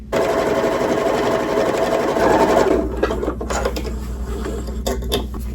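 A sewing machine runs fast through cotton fabric with a steady, close mechanical whir, then slows into lighter ticking and handling sounds.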